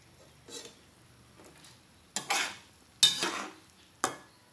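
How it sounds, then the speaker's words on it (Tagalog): A utensil stirs pork with patula in a frying pan, giving several scraping, sizzling swishes at irregular intervals, close and moderately loud, with quiet pauses between strokes. "Haluin natin"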